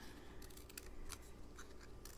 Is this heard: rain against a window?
no